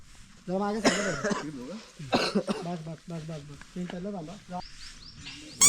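A couple of sharp coughs break through close-up chatter, with voices talking before and after them.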